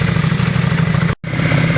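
A Yamaha Virago motorcycle idles close by after a carburetor clean, a loud, even, pulsing engine throb briefly cut by a split-second dropout.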